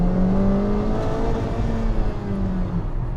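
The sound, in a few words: Honda Civic Type R FK2 accelerating hard in Plus R mode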